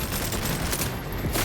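A heavy-recoil gun firing in the video game Cyberpunk, a brief, dense, close burst of rapid shots that fills the short moment.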